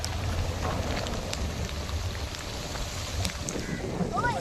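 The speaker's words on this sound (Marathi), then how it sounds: "मुसळधार पाऊस आलाय." Heavy monsoon rain falls at a creek, a dense steady patter with scattered louder drops over a low rumble, while a voice is faintly present.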